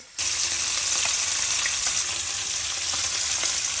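Fish fries in a pan with an even, continuous hiss of hot oil that holds steady throughout, close and alone with no talking.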